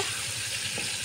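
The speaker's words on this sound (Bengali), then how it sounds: "কাঁচকলাটা ভাজা হচ্ছে" Green plantain frying in a pan, a brief, even hiss of hot oil at moderate level lasting about a second, with no voices.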